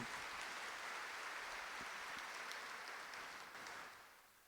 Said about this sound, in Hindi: भाई अपने लिए ताली तो बजाओ जरा।